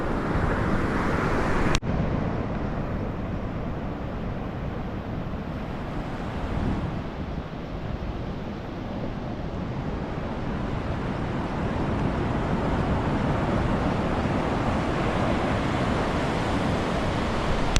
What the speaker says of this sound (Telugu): అలలు వచ్చినప్పుడు బ్యాక్కి వాటర్ వెళ్తాయి కదా